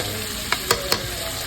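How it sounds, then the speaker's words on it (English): Fish fries in a deep fryer with a steady, close sizzle, and three light clinks of a utensil ring out over the bubbling oil. "It's just an appetizer for some fish we got frying right over here"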